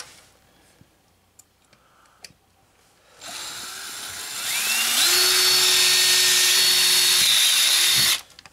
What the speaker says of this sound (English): Okay, got the pilot drill, 5/16 drill.